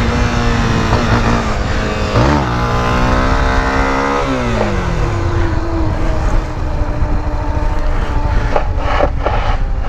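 Honda XRE-300 motorcycle, brand new, revving hard through a wheelie, loud and close with rising and falling engine pitch sweeps and constant revving throughout.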